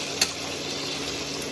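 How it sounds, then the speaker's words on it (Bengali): Chicken pieces frying in hot oil for butter chicken, giving a steady, moderately quiet sizzle throughout with a brief clink of a utensil near the start. "তেল গরম হয়ে গেছে, আমি চিকেনগুলোকে ছেড়ে দিলাম। সেদ্ধ হওয়া পর্যন্ত আমি এটা ভেজে নেব।"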